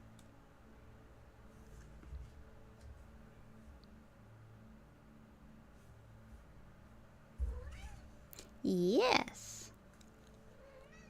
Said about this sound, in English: Tell me about it, little cat. What you saying?